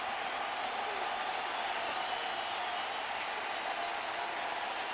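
Baseball stadium crowd at a Cardinals home game roaring steadily with the bases loaded and two outs, a dense, sustained wash of cheering that stays loud and even throughout, with no distinct voices standing out.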